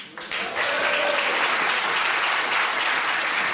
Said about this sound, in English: Hold on a second. Don't applaud.